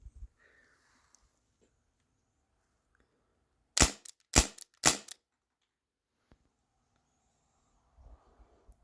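Umarex Brodax BB revolver fired three times in quick succession right beside a decibel meter, sharp loud cracks standing out against an otherwise quiet room.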